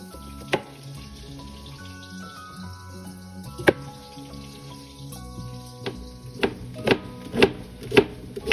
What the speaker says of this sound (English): I am going to take my Brussels sprouts and just slice them in half